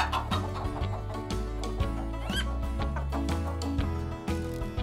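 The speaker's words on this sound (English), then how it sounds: "And what noise is it making? Cluck, cluck, cluck." A farmyard chicken clucks in short bursts over a bouncy children's music track, the clucks sitting just above a steady backing of bass and melody.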